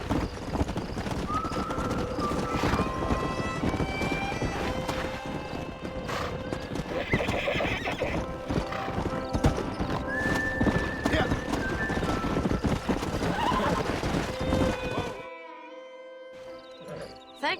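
Hooves clip-clop at a steady gallop while a horse whinnies in the video game Red Dead Redemption, with background music and voices running throughout until the sound cuts off near the end.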